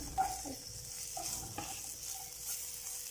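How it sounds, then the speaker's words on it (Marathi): Frozen peas go straight into a spiced oil tempering of fennel, dried mango powder, turmeric and red chilli, giving a quiet, steady sizzle with soft stirring scrapes and a couple of light knocks. "फ्रोझन घेतले मी त्यामुळे आपण डायरेक्टच फोडणीत घालतो आहे"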